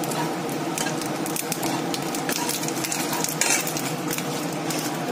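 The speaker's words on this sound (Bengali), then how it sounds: "এবার তেলের মধ্যে শুকনো লঙ্কা দিয়েছি, দেবো হচ্ছে জিরে" Dried red chillies and cumin seeds frying in hot oil in a pan for a Bengali dish, a steady crackling sizzle with faint stirring and metal scraping, no talk.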